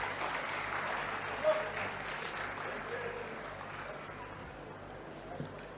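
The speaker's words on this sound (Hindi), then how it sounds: "आपण मानकर विपुल करताली ए मुहूर्त को अधिक स्मरणीय रखिबो।" Applause from an audience at the inauguration of a 100-bed hospital, a faint, steady wash of clapping from a distant crowd with a single sharper clap near the start, heard alone.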